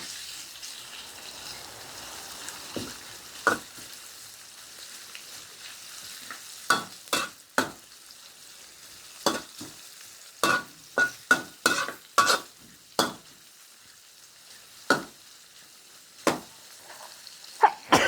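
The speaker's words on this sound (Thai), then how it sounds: "ใส่หมูลงไปผัดค่ะ" Pork belly being stir-fried in a pan for a bean sprout and spring onion dish: a steady close sizzle punctuated by sharp, irregular spatula knocks and scrapes, with no talking.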